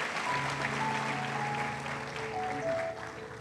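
Church congregation claps in a steady, fairly loud round of applause for a brother, with faint tonal voices and music lingering underneath.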